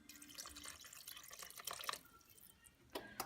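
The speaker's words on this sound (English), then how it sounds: "I'm going to add roughly 1 cup of water" Roughly a cup of water poured into a cooking pot of okra, tomatoes, onion and pepper, heard as soft trickling and dripping with brief louder splashes near the end, fairly faint throughout.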